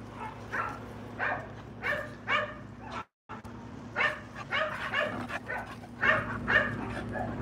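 American bulldog barking and whimpering close by, a series of short deep barks and whines in irregular bursts, with a brief silent gap midway.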